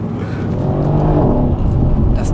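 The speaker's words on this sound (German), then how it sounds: "Die 510 PS und die 700 Newtonmeter machen halt diesen Motor zu einem unglaublich direkt ansprechenden, brachial klingenden Ding." A Mercedes-AMG C63s Edition 1 with a 510 PS V8 pulls hard in a short, loud, continuous roar that rises in pitch, heard from inside the car.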